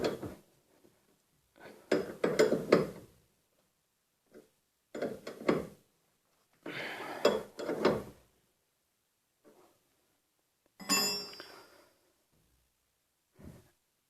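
Faint metallic clicks and clanks of a wrench come in short, separate bursts with quiet gaps as a steering tie rod nut is tightened on a Nissan Tsuru.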